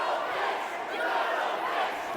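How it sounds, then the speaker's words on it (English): Arena crowd at a fighting-game match roars and jeers at the player Mecha Wolf, a steady loud wash of many voices without pause. "The crowd very politely letting Mecha Wolf know they think he's a bitch."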